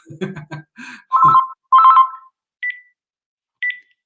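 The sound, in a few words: telephone ringing with an incoming call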